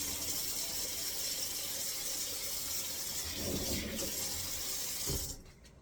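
Kitchen tap water running steadily over food being rinsed in a sink, a continuous close gushing with a brief stronger splash before the flow cuts off near the end.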